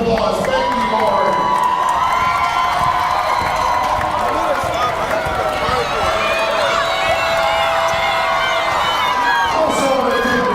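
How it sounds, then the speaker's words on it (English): A crowd at an elementary boys' basketball championship game cheers and shouts steadily throughout, a loud continuous wash of voices with some clapping mixed in, and a voice speaking over the din. "Please give Miss Gavin a round of applause"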